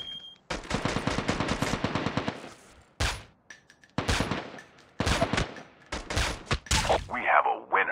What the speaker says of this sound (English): Trying to shoot him with my pistol.